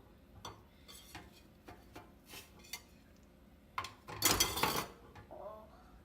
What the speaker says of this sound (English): you gotta scrape the bottom of the pan so it doesn't burn